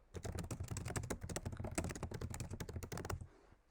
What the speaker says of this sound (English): If you type out a hashtag, you can write comments.